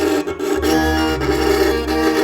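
Rebab pesisir bowed roughly by an unpracticed beginner, giving a scratchy, uneven tone with wavering bow strokes, close and fairly loud with no talking.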